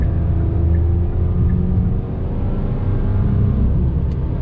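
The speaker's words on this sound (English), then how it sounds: "I'm gonna go ahead and go on throttle as we're rolling here and see how that 6-speed behaves." A 2021 Hyundai Sonata Hybrid with a six-speed automatic accelerating under throttle: a steady, loud, low engine and road drone heard from inside the cabin, holding an even level with a slight dip midway.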